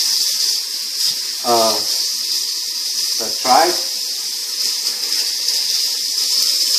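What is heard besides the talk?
water pouring into a pot over tripe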